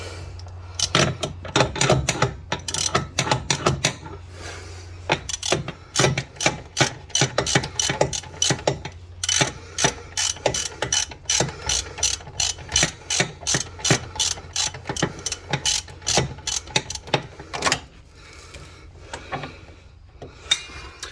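A ratchet tightens bolts on a John Deere 430 garden tractor, a long run of rapid, loud clicking bursts close by, pausing briefly between strokes, alone with no talk.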